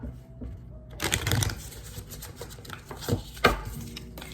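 Tarot cards are shuffled in quick riffling bursts, rapid papery flutters and taps repeating close by, with no talking.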